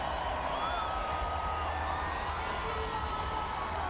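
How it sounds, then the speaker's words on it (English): Crowd at the Rome E-Prix podium celebration, a steady, moderately loud wash of cheering and whooping voices over low rumbling background noise, continuous throughout with no single standout shout. "Look at that crowd."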